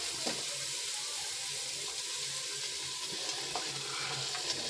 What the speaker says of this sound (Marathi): हे सर्व भाज्या आता टाकायच्या याच्यामध्ये आणि थोड्या वेळ मस्त फ्राय होऊ द्यायच्या आहेत आपल्याला